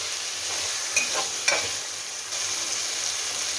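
Potatoes and mint paste fry in a pan with a steady, bright sizzle, while two brief scraping stirs near the start break through the continuous hiss.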